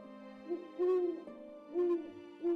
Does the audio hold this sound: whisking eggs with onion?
no